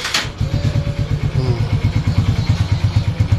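Motorcycle fitted with a near-stock exhaust idling close by, a steady low rhythmic putter with regular pulses and a mild clatter, fairly quiet and even throughout.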